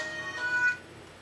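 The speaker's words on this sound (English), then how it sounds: "I have a phone call." A telephone ringtone for an incoming call trills on its own for about a second at moderate loudness, then stops.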